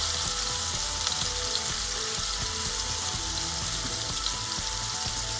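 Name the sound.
beef searing in a hot pan for stew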